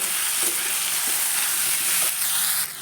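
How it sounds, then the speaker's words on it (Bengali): Turmeric, black pepper and cumin powder sizzle steadily in hot oil with mixed vegetables, close and constant. Faint scrapes of stirring can be heard under the frying. "হলুদের গুঁড়ো গোলমরিচের গুঁড়ো জিরে গুঁড়ো দিয়ে একসঙ্গে ভালো করে এক থেকে দুই মিনিট কষিয়ে নেব"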